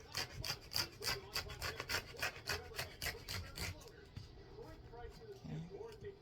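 Fabric is cut along a ruler with a rapid back-and-forth sawing motion beside satin edging, giving a close, rhythmic rasping that is steady for about four seconds and then fades to quieter scraping, all fairly faint.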